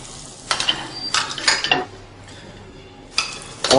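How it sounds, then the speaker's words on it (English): Steak fat sizzles in a frying pan as it cooks down along the edge, with a soft background hiss broken by several bursts of louder sizzling and scraping pan clatter. "turn the steak on its back and just finally cook that little bit of fat down the side"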